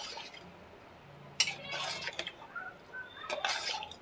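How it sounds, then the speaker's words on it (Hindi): Water is poured into daliya (cracked wheat porridge) in a kitchen pot, coming in short splashing bursts with small clinks and pauses between pours, close and fairly soft. "थोड़ा सा और डाल देंगे पानी हम।"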